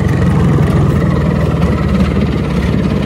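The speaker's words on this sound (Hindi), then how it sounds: "तो बाबा अपना चीज स्टार्ट हो चुकी है, अपना चेतक स्टार्ट हो चुका है।" A 30-year-old Bajaj Chetak scooter idles just after starting. The two-stroke engine chugs in a steady, close, loud drone with a rough low-pitched rumble and no pauses.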